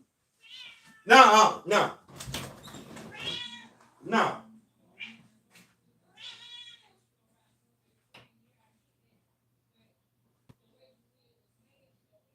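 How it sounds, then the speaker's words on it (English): A cat meows loudly several times up close, its cries mixed with a person speaking briefly, then fades to quiet with a few faint sounds. "That's my cat being rude as hell."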